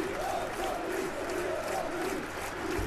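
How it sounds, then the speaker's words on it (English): A football stadium crowd in the PES 2014 video game keeps up a steady chant, a dense, continuous roar with a rising and falling sung pattern that runs unbroken throughout. "Crowd are chanting, we are top of the league."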